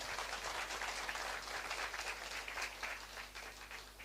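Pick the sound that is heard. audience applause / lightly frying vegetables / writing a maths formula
audience applause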